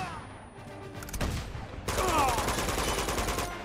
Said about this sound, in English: Too many grenades everywhere!